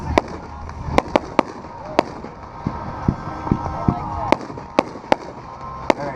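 Consumer firework cake named Rainbow by Winda going off at a demo: a rapid, irregular string of sharp cracking bursts over a loud, continuous hissing, crackling bed, with faint crowd noise beneath.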